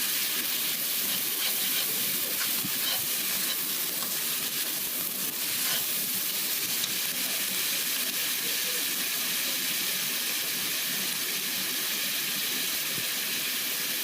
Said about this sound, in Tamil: இதில் கொத்தமல்லி இலை எல்லாம் போட்டு நல்லா வதக்கிக்கலாம்